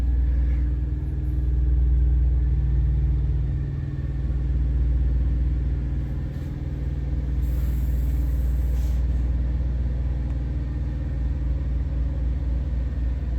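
A 2015 Kenworth T680 truck engine idles close by with a steady, deep low rumble that holds even and continuous, with no voices over it.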